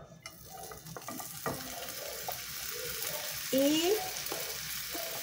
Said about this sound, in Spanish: los bañé con aceite de oliva para que tengan mejor sabor y los voy a poner en el sartén